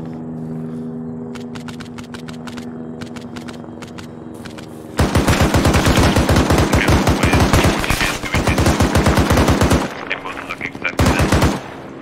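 Automatic gunfire from the video game Arma 3, scattered single shots at first, then long loud sustained bursts with short breaks. Engine hum underneath, voices now and then.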